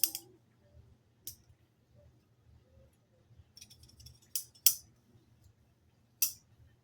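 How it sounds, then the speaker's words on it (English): Poultry shears clicking and clinking as they are handled, a few sharp metallic snaps spaced apart over a quiet low background hum. "here it comes, these poultry shears"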